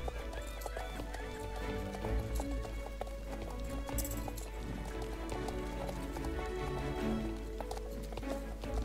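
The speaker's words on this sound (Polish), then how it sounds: "Jazda konna to spełnienie marzeń." Horse hooves clip-clop steadily as a horse is ridden in a video game, a continuous rhythmic clatter of hoofbeats with a whinny mixed in over game background sound.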